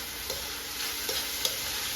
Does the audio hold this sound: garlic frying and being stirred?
yes